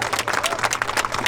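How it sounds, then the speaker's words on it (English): Audience applause at a political party press conference, a brief burst of dense crowd clapping, fairly loud and close. "I want to give her a round of applause for wanting to be on that."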